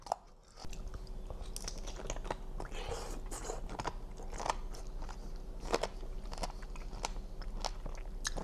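Crispy cannonball jellyfish being bitten and chewed close to the mic, a run of sharp crunches and crackles spaced irregularly over a quiet background.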